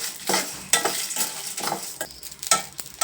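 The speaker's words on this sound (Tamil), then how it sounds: "இப்போ இது எல்லாத்தையும் சேர்த்து நல்லா நம்ம வாசனை வர வரைக்கும் வறுக்கணும்." Whole cinnamon, cloves and Kashmiri chillies toast in a pan for a pepper mushroom fry, giving a soft continuous sizzle broken by several short scraping stirs at an irregular pace.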